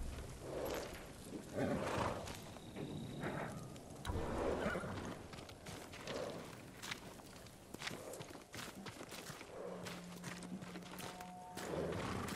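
Samurai horses moving about in Ghost of Tsushima, hooves thudding in an uneven walking rhythm through ambient outdoor noise, with occasional animal snorts and a faint tonal hum, moderately distant and never loud.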